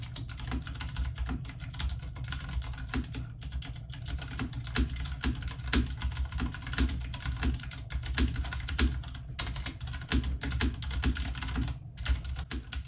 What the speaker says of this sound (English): I cannot express to you the pleasure I get in typing with this keyboard.